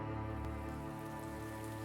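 Steady rain falls as a tabletop game sound effect, a constant even patter with a low tonal hum underneath, no voices.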